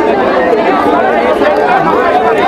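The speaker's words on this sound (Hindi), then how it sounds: "आप देख सकते हैं कि किस तरीके से यहाँ पर भीड़ उमड़ी हुई है और चारों तरफ भीड़ ही भीड़ है।" A large crowd gathered for an evening candle march at Jantar Mantar in Delhi, producing a loud, unbroken wash of many voices chattering at once close by.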